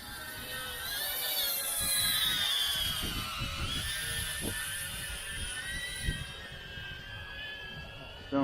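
A fast remote-controlled model aircraft passes close overhead with a high, jet-like whine that swells and fades, heard from a spot among trees, with wind buffeting the microphone.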